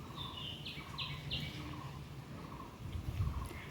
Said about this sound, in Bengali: চারিদিকের পাখির আওয়াজগুলো একটু শোনো কত রকমভাবে ডাকছে পাখিগুলো